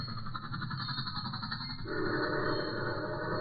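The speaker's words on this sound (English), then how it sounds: "There goes the troop train." Troop train passing as an old-time radio drama sound effect: a steady, loud rolling rumble that swells and thickens toward the end, with no voices over it.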